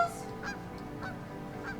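Goose honks from a video game ring out in three or four short nasal calls at a steady pace, set over a constant game music and ambience bed.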